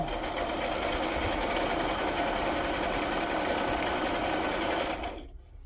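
A sewing machine stitches a wax paper glassine journal pouch in a fast, even, buzzing run at close range, then stops abruptly just before the end.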